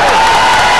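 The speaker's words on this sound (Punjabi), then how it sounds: "ਜ਼ੋਰਦਾਰ ਤਾੜੀ ਮਾਰ ਦਿਓ ਉਸ ਵੀਰੋ" Loud, dense applause and crowd noise from spectators at a kabaddi cup match, a sustained roar that fills the whole moment.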